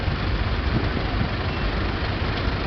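An International B275 tractor engine chugs nearby at a steady pace, a continuous heavy low rumble that holds level from start to finish.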